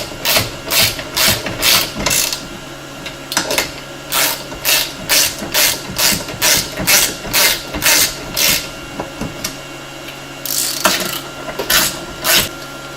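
Ratchet wrench tightening clutch kit bolts on a RZR primary clutch, a close, loud run of quick rhythmic clicking bursts in steady strokes, a short pause near the middle, then a final flurry of clicks.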